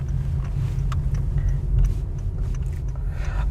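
A Honda City 1.2L CVT car pulls onto a main road, heard from inside as a steady low road and engine rumble that holds throughout, with faint clicks and rattles above it and no talk.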